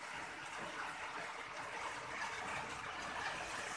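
Steady, unbroken rainfall from Typhoon Kristine hisses as an even, moderate wash of noise without pauses, with faint trickling and running water beneath.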